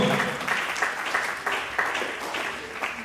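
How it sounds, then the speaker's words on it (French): A church congregation at a funeral mourning service claps loudly and steadily, a dense wash of hand claps with periodic surges of emphasis, close and filling the room. "Acclamez pour le Seigneur, parce que Dieu est souverain. Acclamez très fort, acclamez très fort."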